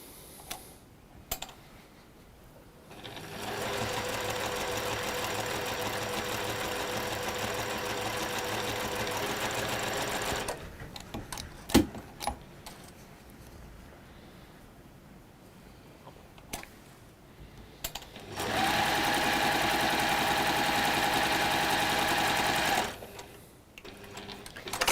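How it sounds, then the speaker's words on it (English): Sewing machine stitching quilting fabric along a diagonal line, two sustained steady runs of mechanical whirring separated by a quiet pause with faint handling clicks, no talk. "So we'll sew on the diagonal line of both of those."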